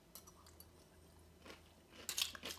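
Crisp, crunchy chewing of cucumber salad close to the mouth, a few scattered bites early, then a louder burst of crunching near the end.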